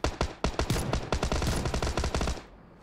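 Counter-Strike video game gunfire rattles off in loud, rapid bursts of closely spaced shots, roughly a dozen cracks in quick succession before cutting off abruptly.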